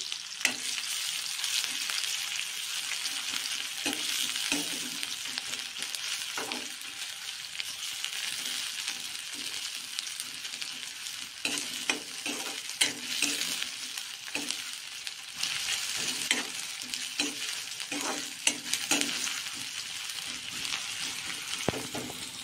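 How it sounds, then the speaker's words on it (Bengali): Chopped onion fries in hot oil in a home kitchen for a fish curry, a steady close sizzle broken by repeated scraping stirs and clinks of a utensil against the pan, with no voices. "তেলের মধ্যে দিয়ে দিচ্ছি এখন পেঁয়াজ কুচিটাকে সুন্দর করে ফ্রাই করে নিতে হবে প্রথমে"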